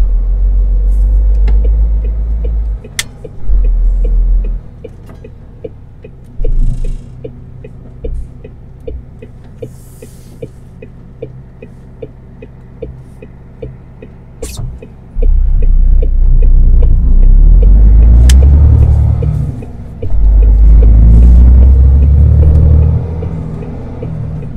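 A 470-horsepower car drives along with a deep, throbbing engine rumble that holds steady, then swells into louder, heavier surges in the second half, with no one talking.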